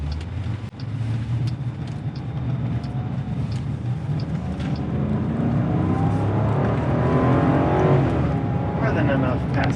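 A 2021 Jeep Grand Cherokee L engine builds steadily under acceleration in sport mode, its drone rising in pitch and loudness over several seconds, heard from inside the cabin.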